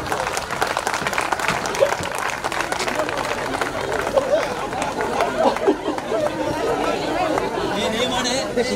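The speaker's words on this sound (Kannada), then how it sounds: "ಚಪ್ಪಾಳೆ." An audience at a school batch reunion gathering claps in steady, continuous applause. Crowd chatter and voices mix in throughout.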